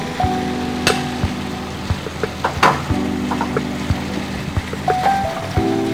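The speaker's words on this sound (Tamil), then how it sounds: "தண்ணி நல்லா கொதிச்சிச்சு தண்ணி கொதிச்சிட்டு இருக்கு" Water bubbling at a boil in a pot for Tamil-style prawn noodles, a soft steady simmer with scattered small pops and clicks over a low hum, no talking.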